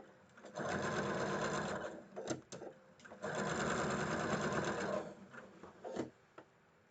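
A sewing machine stitching fabric runs steadily in two long close bursts, with a brief pause and a few small mechanical clicks between them.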